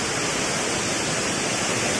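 Alibang Waterfall on Yangmingshan, a steady, dense roar of falling water filling the whole clip at an even level, with no voices.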